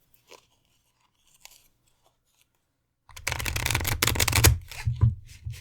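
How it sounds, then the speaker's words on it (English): Part of a large deck of cards is riffle-shuffled close up, a dense rapid flutter that bursts in loudly after a few seconds of near silence broken only by faint handling ticks. "Because this deck is very big. I can only shuffle just a part of it"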